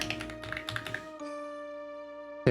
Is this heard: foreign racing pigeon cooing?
no